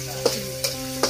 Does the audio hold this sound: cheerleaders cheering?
no